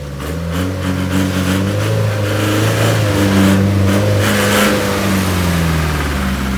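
A car engine runs steadily while the vehicle is slowly backed up at a hazelnut farm, with a low drone and a few mild rises in revs, continuous and fairly loud throughout.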